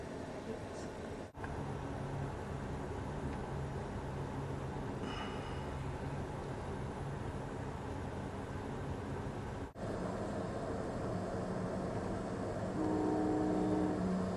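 Sunset Limited passenger train pulling out near El Paso, a steady low rumble of rolling cars and wheels on track, with a faint horn-like tone toward the end.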